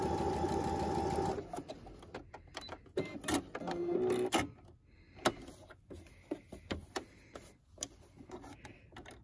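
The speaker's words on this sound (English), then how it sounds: "I'm just going to stitch right over what I've already done" A sewing machine runs a quick stitching burst over earlier stitching on a fabric mask, then gives way to scattered clicks and handling taps, close and fairly quiet.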